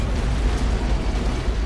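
A heavy, sustained rumbling blast from an antimatter charge detonating aboard a starship in the Halo: Combat Evolved Anniversary game, loud and continuous with dense low-end roar throughout and no talking.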